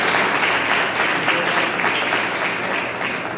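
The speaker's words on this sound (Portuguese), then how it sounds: "Aplauda a Deus pelo nosso pastor" A church congregation at a Christian symposium applauds in a steady, full wash of clapping that holds evenly from start to finish.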